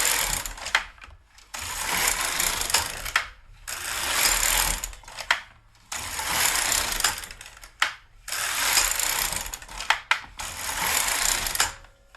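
A GK 370 knitting machine carriage sweeps back and forth across the needle bed, giving loud, close mechanical rattling passes of about two seconds each, split by brief pauses between rows.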